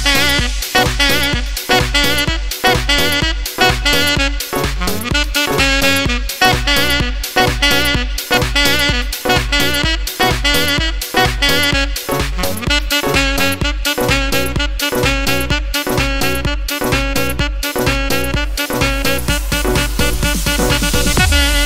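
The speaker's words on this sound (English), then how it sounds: "the sax part sounds like this when it's all put together" A saxophone plays a song's hook over a loud, dense dance backing track with a steady pounding beat, the sax line riding on top for the whole stretch without any talking.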